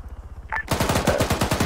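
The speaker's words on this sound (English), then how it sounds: "We'll rely on machine gun fire." Machine gun fire in the military video game Arma 3, a rapid unbroken burst of loud shots at an even rhythm after a brief faint click, close and with no talking.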